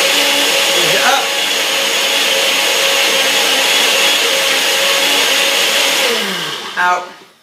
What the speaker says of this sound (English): got my NutriBullet here, clip it in, on it goes, we're on